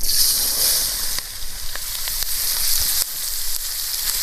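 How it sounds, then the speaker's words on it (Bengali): Cauliflower, onion, capsicum and chili fry in a pan with a loud, continuous sizzle and hiss, with occasional sharp crackles and stirring scrapes close by. "কপি পিঁয়াজ ক্যাপসিকাম লঙ্কা ঢেলা দেব।"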